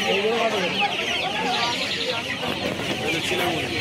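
Chinese chickens clucking and calling at a busy poultry and duck market, a dense overlapping chorus of close hens and fowl with people talking underneath.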